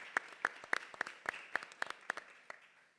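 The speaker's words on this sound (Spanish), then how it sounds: "Un aplauso, por favor, para la compañera." Scattered hand claps from a small audience at an entrepreneurship week event in Gran Canaria: about a dozen sharp, fairly close claps in an uneven rhythm that thin out toward the end, with no voices.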